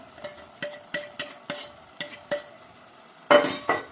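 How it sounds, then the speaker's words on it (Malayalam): Ground masala paste for Kerala-style egg curry is stirred in hot oil in a pan, a run of sharp spoon scrapes and knocks at an even pace over a faint sizzle, close up and alone. "എന്നിട്ട് നല്ലവണ്ണം ഇളക്കിയെടുക്കുക"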